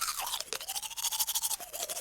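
Close, steady brushing of teeth with a bamboo manual toothbrush, rapid back-and-forth bristle scrubbing in a continuous rhythmic swish with no talking.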